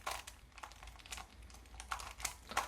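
A Box Skewb container puzzle cube being twisted through sledgehammer moves gives quick, close plastic clicks and rattling turns in an irregular run with no voices.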